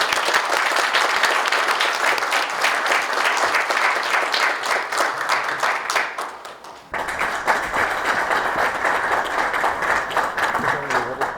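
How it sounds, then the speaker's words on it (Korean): A large audience at a defense research forum seminar applauds ahead of a special lecture on security and the US–Korea alliance, steady dense clapping that dips briefly near six seconds then resumes at full strength, close and loud. "큰 박수 부탁드리겠습니다."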